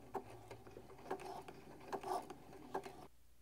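A sewing machine backstitches an elastic casing back and forth, its needle thumping in a quick, regular mechanical rhythm for a few seconds before stopping abruptly; faint and near, with no talking.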